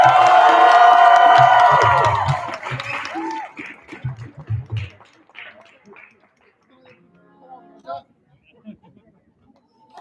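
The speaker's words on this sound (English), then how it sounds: "let's give him another round of applause" Wedding guests at a Nikkah ceremony break into loud cheering and applause with whoops and shouts over music, which then fades into scattered claps and chatter.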